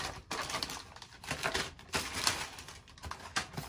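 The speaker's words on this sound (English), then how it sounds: "Let me take it out of the plastic bag." Crinkly plastic rustling and crackling in irregular bursts, close by, as hair extensions are pulled out of a plastic bag.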